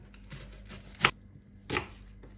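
Vegetables are chopped for chicken soup on a chopping board, with a few separate knife strikes landing as soft taps and two sharper thuds, close and fairly quiet against a faint room hum.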